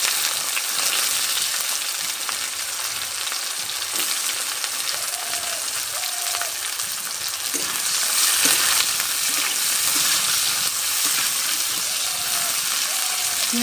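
Chopped onions frying in oil with whole cinnamon, cardamom and cloves for a jackfruit and prawn curry, a steady loud sizzle running throughout with occasional scrapes and clinks of a stirring spoon.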